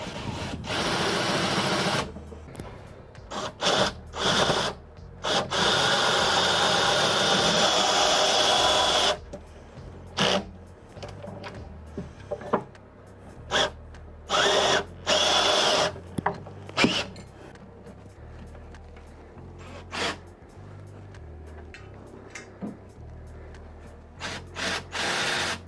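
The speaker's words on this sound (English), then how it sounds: "I am gonna drill enough into the wood where I can guesstimate where I should go" Power drill boring into wood while fitting legs to a virtual pinball cabinet, close bursts of whirring drilling of varying length, the longest early on, separated by short pauses and handling noise.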